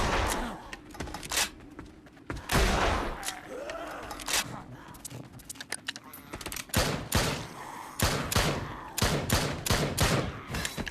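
Pistol and shotgun fire at zombies in the video game Spawn of the Dead, loud sharp shots in irregular clusters and quick double taps, with heavier blasts between quieter gaps.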